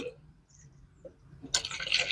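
Water runs into a container holding a little jaggery, a bright, steady rush of filling that starts partway through after quiet handling sounds.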